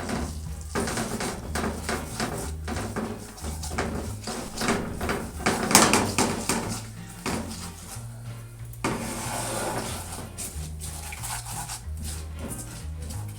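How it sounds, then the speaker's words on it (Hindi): Semolina roasts in a small kadai for egg halwa. A spoon scrapes and stirs it with repeated rhythmic scratching over a soft, steady sizzle, close by. "सूजी को हम 2 मिनट के लिए भूनेंगे।"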